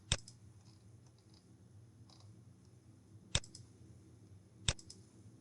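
Three sharp computer mouse clicks spaced apart over a quiet room hum, the first two well separated and the last following closer behind.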